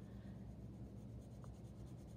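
Unsharpened pencil shading on paper: a very quiet, continuous dry scratching and rubbing with slight back-and-forth rhythm, close up and alone.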